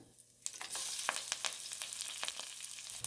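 Crushed garlic, curry leaves and broken dried chillies hit hot oil with a sudden sizzle, then keep frying steadily with sharp pops and crackles and occasional stirring clicks close by.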